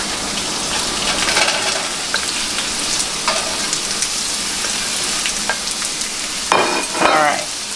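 Food browning in a hot pan, sizzling and crackling steadily and close up, with brief louder spatters near the end and no talking.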